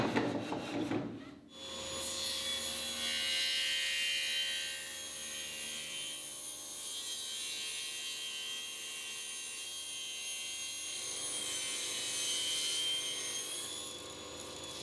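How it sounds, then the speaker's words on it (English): A table saw rips long wooden workbench rails to final width, a loud, steady, bright whine that runs almost the whole time after a short quiet start and drops away at the end. "Now with everything at thickness, I cut the long rails to final width at a table saw."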